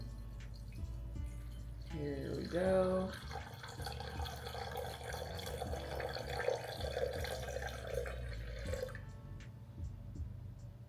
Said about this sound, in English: So I'm gonna put 492 grams of water in here